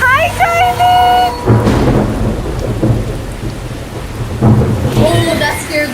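A thunderstorm with heavy rain drumming steadily and loud rolling thunder cracks, the downpour close and constant, with brief high chirping tones at the start and end.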